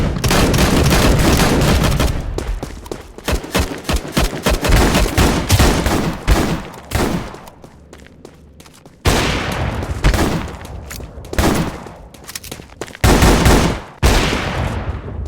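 Rapid Desert Eagle gunfire in the Roblox game Bloxstrike, dense loud bursts of shots running almost continuously with a few brief gaps, game effects layered over one another.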